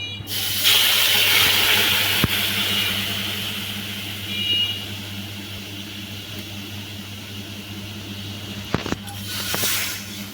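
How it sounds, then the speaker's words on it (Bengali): Water poured into a hot kadai while making soft kulcha, giving a brief hiss and rush of liquid near the start that settles into a steady low background hum, with a few faint clicks later. "এবার কড়াটা গরম হয়ে গেছে এবার জল দেবো"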